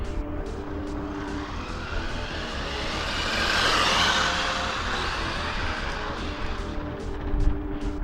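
Tamiya TT02 radio-controlled car tuned for high speed on a track, a whining motor and tire noise that rises as it speeds past, then a sharp braking squeal near the end, fairly close with no talk.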